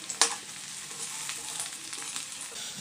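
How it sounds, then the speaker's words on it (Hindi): Arbi leaf pakoras fry in hot oil until browning, giving a close, steady hiss and fine crackle with one sharp pop near the start and soft bubbling bursts after. "हमें इन्हें थोड़ा ब्राउन होने तक फ्राई करना है।"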